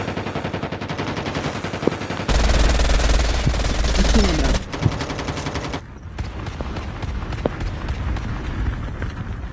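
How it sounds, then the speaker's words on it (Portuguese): Video game gunfire from a shooter match, with rapid automatic bursts and scattered single shots, one dense, loud stretch in the middle, and faint talk underneath. "Tô levando tiro."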